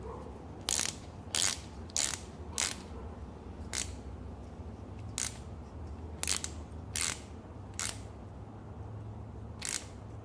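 Hand ratchet tightening bolts on an 82-92 Camaro, about a dozen sharp clicks in a loose, uneven rhythm over a low steady hum, close up with no talk.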